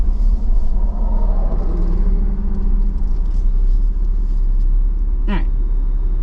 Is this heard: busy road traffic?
yes